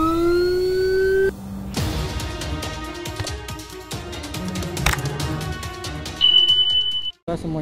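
Ambulance siren in an escort convoy from Bandung to Cimaragas, Ciamis, wailing loud and close in shifting tones with horn blasts and road noise, cutting off abruptly near the end.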